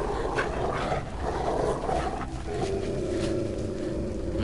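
A dog barks and growls in the video game Beyond Two Souls, a few rough calls over a murky ambient background, moderately loud with no voices.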